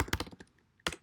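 A burst of quick keystrokes on a computer keyboard, close and crisp, with a few rapid clicks, a brief pause, then another cluster of presses.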